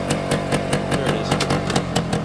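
A 1973 Suzuki TS250K two-stroke motorcycle rides past close by, its engine loud and raspy with a quick, even rhythmic pulsing throughout the short pass.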